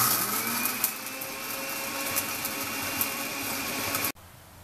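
A kitchen blender whirs loud and steady, grinding annatto seeds with fine cornmeal to make homemade colorau, then cuts off abruptly near the end.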